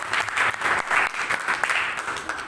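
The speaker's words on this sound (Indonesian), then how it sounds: "Tepuk tangan semua." An audience gives a round of applause at a gathering, with dense, steady clapping from many hands. It stays loud and even for the whole stretch, with no talk over it.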